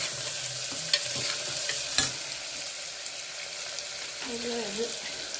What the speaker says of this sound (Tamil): ஃப்ரை பண்ண இந்த வெங்காயத்தை போட்டுக்கோங்க. வெங்காயத்தை நல்லா வதக்கணும்.